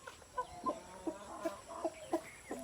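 A rooster clucks quietly and at a distance, giving about seven short, evenly spaced clucks in quick succession.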